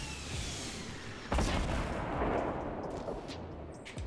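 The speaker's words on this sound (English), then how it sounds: "I love those heavy snipers." A heavy sniper rifle in a video game fires a single sharp, booming shot partway through, cutting loudly through the low game ambience before the sound fades and light clicks follow.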